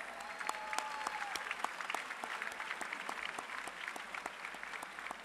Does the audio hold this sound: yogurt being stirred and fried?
no